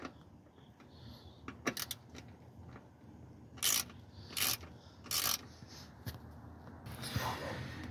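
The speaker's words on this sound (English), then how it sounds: "that's a T30. I just put it in a 1/4 inch socket on my ratchet" A ratchet driving a T30 Torx bit in a 1/4 inch socket while removing a seat from a 2002 Ford Windstar LX, several short bursts of rapid clicking over faint rubbing, quiet and close.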